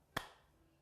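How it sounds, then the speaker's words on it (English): A single sharp hand clap for filming, one crisp nearby slap with a short ringing decay in a quiet room. "can you clap for me now?"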